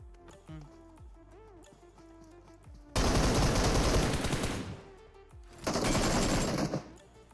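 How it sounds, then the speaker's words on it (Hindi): Rapid automatic gunfire in the BGMI battle royale game, two loud sustained bursts of shots roughly a second and a half to three seconds long, separated by a quieter stretch of game sounds with no talking. "उसी टाइम जब यहाँ पर किसी ने फायर कर दिया"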